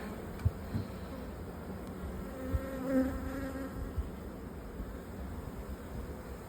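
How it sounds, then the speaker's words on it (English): A dense, steady buzzing of a swarm of honey bees fills the air, a continuous droning hum close around with a few faint knocks. "Just a ton of bees."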